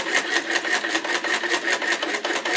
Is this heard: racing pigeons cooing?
no